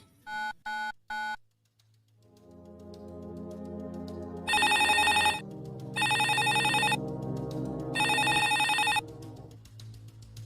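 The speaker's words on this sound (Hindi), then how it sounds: "फोन लगाइए उस हरी मेहता को।" Three quick beeps of a phone being dialed, then a line tone and an electronic ringtone sounding three times in steady bursts, fairly clear.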